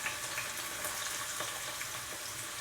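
Ingredients hit warmed oil in a pan, giving a steady close hiss and crackle of frying with faint scattered pops, no voices over it.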